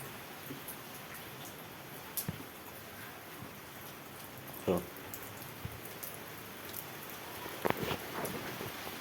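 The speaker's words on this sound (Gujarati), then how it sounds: "જો પાણીની ધારવાળી થાય વરસાદ ચાલુ છે" Steady rain falls in a soft, even hiss, with a few louder knocks and splashes breaking through now and then.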